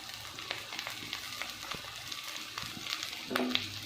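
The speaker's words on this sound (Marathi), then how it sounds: "लगेच हे कट करून घेतलेले टोमॅटोचे काप टाकून घ्यायचे" Green tomato slices frying with chillies and onion in a pan for chutney, making a quiet sizzle broken by scattered soft spatula taps and one brief clink near the end.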